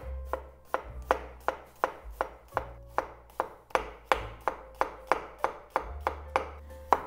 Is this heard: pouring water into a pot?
no